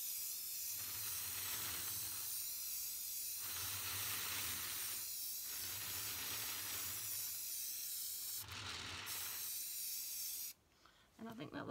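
Bursts of spray paint hiss steadily as a light coat goes onto a glitter tumbler over epoxy, the loud close spray pausing briefly between passes, with a sharper burst near the end.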